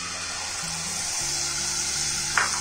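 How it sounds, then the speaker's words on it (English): Fresh tomato puree sizzles in hot butter with a broad, steady hiss of frying that runs throughout, close and fairly loud, and one brief clink is heard near the end. "To this, I'm going to add in fresh tomato puree"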